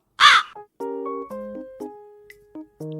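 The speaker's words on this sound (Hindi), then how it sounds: "Crow, कौवा।" One harsh, loud crow caw rings out up close, followed by a short sequence of clean electronic musical notes.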